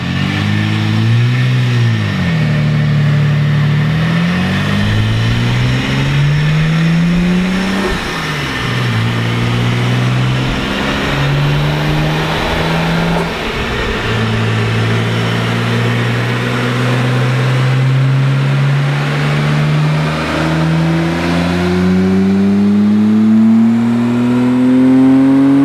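A turbocharged car engine revs hard through repeated boost pulls, its pitch climbing, dropping at each shift and climbing again, loud and close throughout with no speech.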